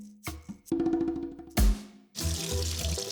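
A kitchen tap runs while hands are washed, with splashing water pouring in uneven bursts that start, stop and resume, close by with no talking.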